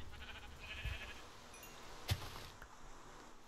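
A Minecraft sheep lets out a couple of faint, brief bleats amid low game ambience, punctuated by a sharp click or thud, with no speech.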